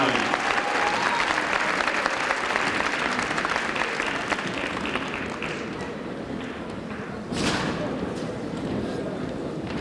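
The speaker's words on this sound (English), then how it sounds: "Let's have another round of applause for the champions in flag football" A convocation audience at UAPB gives dense, steady applause for the Golden Lions flag football champions, with crowd noise mixed in and a brief louder burst near the end.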